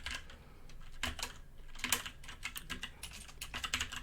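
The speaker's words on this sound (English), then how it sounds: "I'm just going to type in" Continuous typing on a computer keyboard while entering HTML layout code, irregular clusters of light clicks and key taps at close range with no talk.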